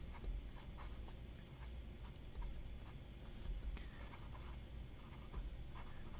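Fountain pens write on notebook paper, with faint, close nib scratches in short, repeated strokes over a quiet background. No one speaks.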